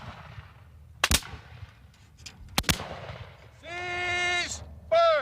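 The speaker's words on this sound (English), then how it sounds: "For a constant, sustained fire, they fire by file." Civil War reenactors at Gettysburg fire their muskets by file within a company, giving two sharp, loud, separate reports with echoing tails, then drawn-out whistle or bugle-like tones, heard outdoors and at close range.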